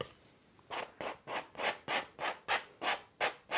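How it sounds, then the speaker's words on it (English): A palette knife scraping oil paint across canvas, a steady series of about ten rhythmic rasping strokes, close and fairly loud with no talking. "Notice how I'm scraping away a lot of that paint."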